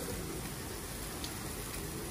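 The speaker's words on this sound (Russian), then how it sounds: "Дождик идет" Light rain falls outdoors on a Sunday, a soft, even hiss of drops filling the air with faint scattered taps, steady and unbroken throughout, with no voices.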